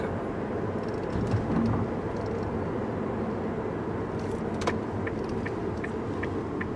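A car engine hums steadily from inside the cabin while driving, a low continuous drone with road noise and a few faint rattles, no talking.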